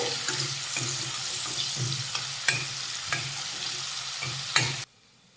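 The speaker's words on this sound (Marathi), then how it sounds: "एक कांदा बारीक चिरून घेतलेला आहे तो घालूयात आणि परतून घेऊया" Finely chopped onion sautéing in a pan for aloo methi, bright sizzling with rhythmic spatula scrapes and stirs about once a second, then cutting off abruptly near the end.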